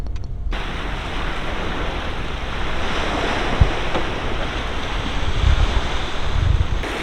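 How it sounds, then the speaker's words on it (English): Ocean waves wash steadily onto a beach in mainland Greece, a continuous broadband surf roar with wind buffeting the microphone and a few louder swells rolling in toward the end, no voices. "You can hear the sound of the waves."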